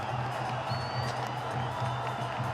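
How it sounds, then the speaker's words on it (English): Cricket crowd at a Sri Lanka versus West Indies T20 international cheers the fall of a wicket, a broad, distant roar of voices and whoops with a low droning hum pulsing underneath. "Everyone in the crowd acknowledging that wicket"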